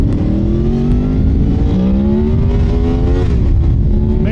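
A quick street motorcycle hauls hard in a roll-on, the engine note climbing steadily in pitch with a gear change, loud and close, no voices.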